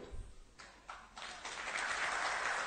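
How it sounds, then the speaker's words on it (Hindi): Audience applause at a political gathering at Jawahar Bhawan in Delhi, starting as a few scattered claps and swelling into steady clapping over a couple of seconds. "नहीं, ताली मत बजाइए"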